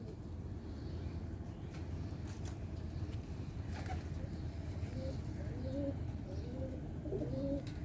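A Teddy pigeon with feathered feet coos softly in a series of low, rolling calls in the second half, set against steady background hum and a few faint chirps.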